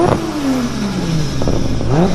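Toyota Supra, the car from Fast and Furious, revs loudly up close, its engine note climbing and falling in repeated swells with a clattering edge, standing alone without any voices.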